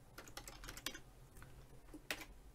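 Keys clatter on a computer keyboard as a folder name is typed, a quick uneven run of close, crisp clicks with brief pauses and a couple of sharper strokes, over a faint steady hum.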